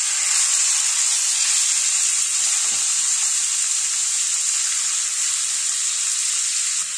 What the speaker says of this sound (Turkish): Isınan tavaya kuşbaşı doğranmış tavukları ekliyorum şimdi.